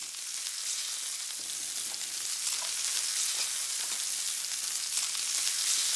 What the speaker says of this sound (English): I'm gonna add the onions. There we go. Brown them up.